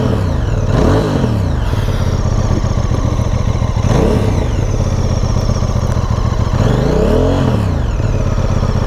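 A 2023 QJ Motors SRV 550 motorcycle engine running loudly and continuously, with its pitch rising and falling in three repeated revving sweeps.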